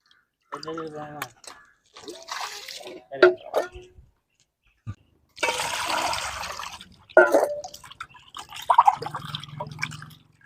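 Running water splashes and drips in short bursts with pauses between, as minced fish meat is rinsed under a tap up close.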